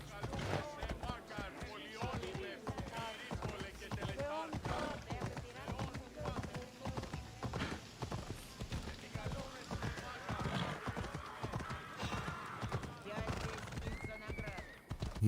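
Horse hooves clip-clop at a steady gallop with neighs in Assassin's Creed Odyssey, mixed with game music and effects while someone talks over it throughout.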